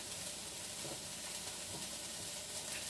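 Food frying in a pan, a faint, steady sizzle and crackle with soft hissy texture and no voices.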